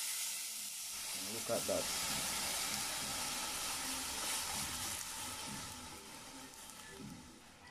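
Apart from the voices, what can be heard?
coconut milk added to hot burnt curry, steaming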